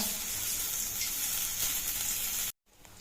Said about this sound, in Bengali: একদিক ভাজা হয়ে গেলে আমি আরেকটা দিক উল্টে দেবো এইভাবে।